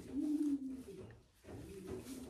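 A red checker racing pigeon coos up close, low throaty rolling calls in two phrases with a short pause between, fairly soft against a quiet loft.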